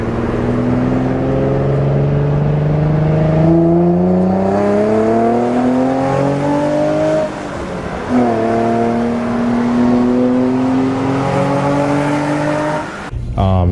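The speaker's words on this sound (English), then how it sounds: "This car sounds insane with the Motordyne Shockwave." A Nissan VQ V6 fitted with a Motordyne Shockwave exhaust revs loudly up and down close by, rising smoothly through the range, dropping, then climbing again before cutting off.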